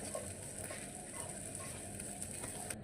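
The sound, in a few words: chillies being lightly roasted in a pan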